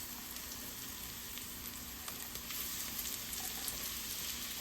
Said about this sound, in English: we are going to carefully slide in our onion